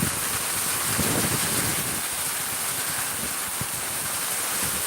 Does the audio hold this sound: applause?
no